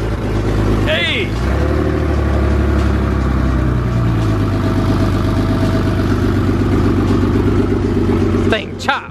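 A project car's engine idles loud and close with a choppy, lumpy rhythm, throbbing steadily from start to finish; a short vocal exclamation breaks in near the start and a rev comes near the end.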